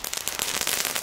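A dense burst of sharp crackling pops from Belgian fireworks, loud and close, rattling on continuously for about a second.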